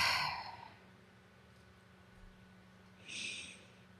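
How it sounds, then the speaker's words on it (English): A deep breath taken close to the mic during a calm affirmation practice, one long exhale easing off into near silence, followed a few seconds later by a second softer breath. "I take a deep breath."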